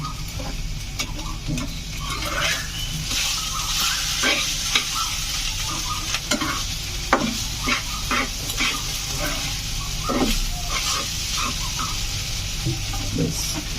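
Spices fry in hot oil in a pan, producing a steady close sizzle throughout, broken by frequent clinks and scrapes of stirring.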